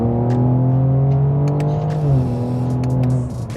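Tuned BMW with a flash ECU tune driving and accelerating, a steady loud engine drone with harmonics rising and then dropping at a shift, heard from inside the car with no talk.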